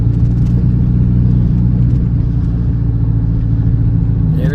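A Toyota Camry with a loud exhaust drives along, its deep steady engine drone and exhaust rumble heard loud and close from inside the car, with no talk.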